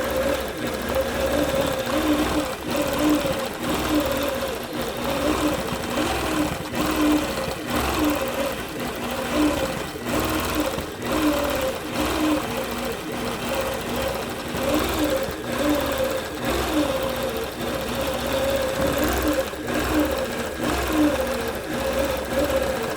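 A sewing machine machine-quilting a baby quilt, stitching curves and curls down the center, running in a continuous, steady mechanical whir throughout.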